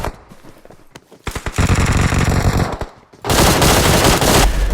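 Loud rapid automatic gunfire in a mobile shooter game, with a dense rattling burst, a brief gap, then another sustained heavy volley, close and unbroken by talk.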